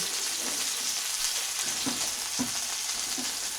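Food sizzles and fries steadily in a pan, a constant close hiss with a few soft stirring clunks and no talking.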